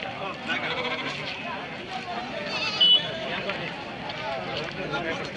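Goats bleat now and then amid a busy, steady hubbub of many people talking nearby at a livestock market in Tumakuru.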